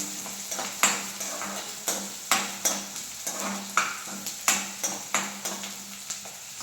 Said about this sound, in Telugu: కొంచెం పచ్చివాసన పోయే వరకు కొంచెం కలర్ మారే వరకు ఫ్రై చేయండి